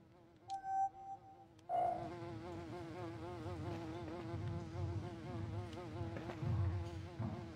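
Fly buzzing in the video game Beyond Good & Evil, a couple of short electronic chimes first, then a sustained close wavering insect drone that fills the rest.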